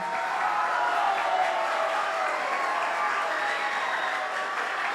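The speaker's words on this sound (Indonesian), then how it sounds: "beri tepuk tangan yang meriah untuk MC kita hari ini" A school seminar audience at SMP N 233 claps for the MC, sustained, even applause from a large group of students, loud and unbroken over a faint murmur of the room.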